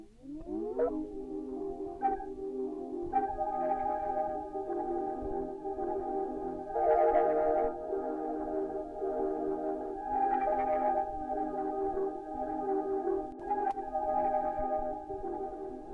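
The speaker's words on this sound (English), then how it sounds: "I have this phrase that I added from my analog blueprints kit" A melodic music sample phrase from an analog blueprints kit, a sustained tonal chord that rises in and swells at intervals, playing alone and fairly soft throughout.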